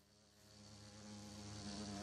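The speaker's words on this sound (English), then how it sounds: "there's a bee there, which means there's bees area" A Minecraft bee buzzes steadily and faintly with a low droning hum that grows slightly louder over two seconds, alone with no talk.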